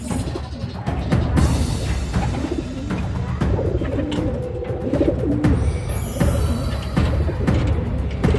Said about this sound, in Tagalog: So maganda ang ibon guys, yung black check na yan.